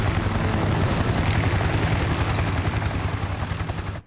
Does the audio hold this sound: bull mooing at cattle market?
no